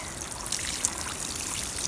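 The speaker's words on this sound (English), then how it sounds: "so now I'm going to give my peonies a nice drink of water" Water pours from a watering can onto peonies in a fall garden, a steady, close splashing trickle that runs unbroken with no voices.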